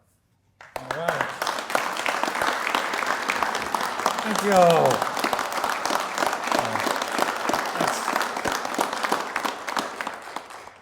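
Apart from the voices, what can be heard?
audience applause and clapping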